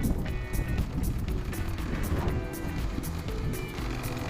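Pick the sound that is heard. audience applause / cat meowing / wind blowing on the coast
wind blowing on the coast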